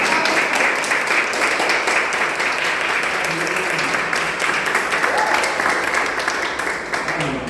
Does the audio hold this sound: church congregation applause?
yes